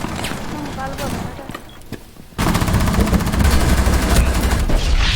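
Gunfire in the video game Rainbow Six Siege: scattered shots at first, then a loud, sustained burst of rapid automatic fire from about halfway through, with a voice talking over the action.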